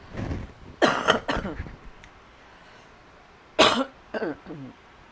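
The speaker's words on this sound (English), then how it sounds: "I got a cough again." Two bursts of harsh coughing, each a few quick coughs in a row, close and loud, separated by a quiet pause.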